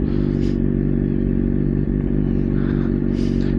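A motorcycle on a seafront road gives a loud, steady engine drone close by, with a faint clatter and no talk.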